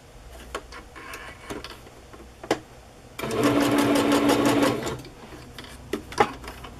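A sewing machine runs a zigzag stitch across a decorated mermaid bag. The motor whirs steadily and close for about a second and a half, with faint clicks and handling noises before and after.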